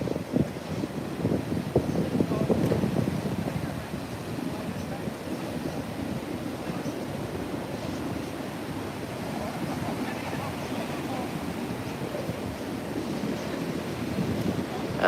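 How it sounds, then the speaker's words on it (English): Crumbly surf rolling in on the Gold Coast with a southerly swell, a steady wash of breaking waves mixed with wind noise on the microphone, fairly faint and continuous with no talk. "So you've got these waves, but really crumbly."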